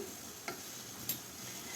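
A quiet scraping stir of a warmed honey and butter mixture for a honey cake, with a couple of faint clicks over a low steady hiss, no voices.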